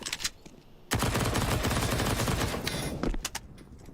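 Rapid SMG fire in a Counter-Strike: Global Offensive match on the Nuke map, a dense burst of automatic shots lasting about two seconds after a brief lull, with scattered single cracks trailing off.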